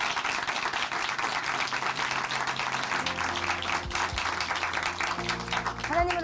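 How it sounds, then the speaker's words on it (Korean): A church congregation in Chuncheon claps together after a testimony program, a steady, moderately distant round of applause with soft tonal music and a few low thumps emerging underneath toward the end. "다시 한번 박수 보내드리겠습니다."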